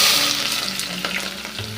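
Chopped onions frying in hot oil in a pan for mushroom sambar, a steady close sizzle with faint stirring scrapes, no voices.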